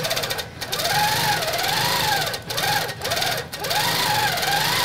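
A sewing machine stitches a decorative quilting design in shimmering thread at a longer stitch length, its steady loud mechanical whir broken by a few brief pauses, with no talking.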